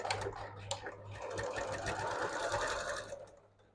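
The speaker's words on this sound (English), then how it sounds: "So we're going to sew the first row of stitching at 5/8 of an inch." Sewing machine running a first row of stitching on the sleeve of an upcycled quilted coat, a steady close motor whir with rapid needle clatter that holds for most of the stretch, then fades out.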